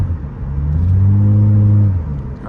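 A straight-piped Nissan Altima exhaust revs up, swelling into a loud, raspy drone that holds for about a second before falling away, heard close and alone.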